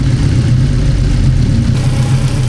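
Honda Civic EG engine idling, a loud, steady low rumble with a slight uneven pulse and no talking.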